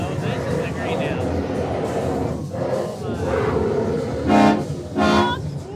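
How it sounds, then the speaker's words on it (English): An animatronic prop in a haunted house attraction blows a horn twice near the end, two loud, short honks over a noisy, crowded background with people talking. "Honk. Ooh, horn blows."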